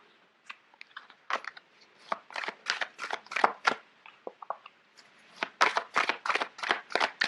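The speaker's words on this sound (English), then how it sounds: "It's hard to shuffle." Large tarot cards shuffled by hand at close range, in repeated bursts of crisp riffling and snapping with short pauses between, and no talking.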